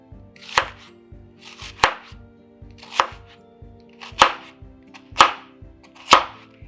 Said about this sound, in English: slice the onion with the tip of the knife